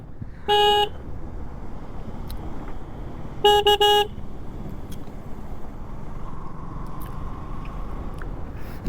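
Two short car horn honks, the first near the start and a slightly longer double toot a few seconds later, over steady road and engine rumble on a KTM Duke 200 motorcycle in the Kolli Hills, India.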